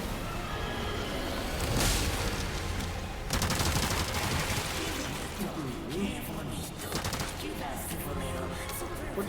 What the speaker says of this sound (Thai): ปืนกลแม่งรัว